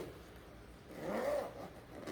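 Zipper on a waterproof Mark Ryden MR-9008 backpack drawn open in one smooth, fairly quiet pull, heard close and alone.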